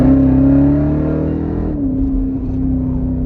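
A Jeep Grand Cherokee Trackhawk engine drones with a strong, steady tone while the SUV is driven, rising slightly before easing back, loud and close with no talking.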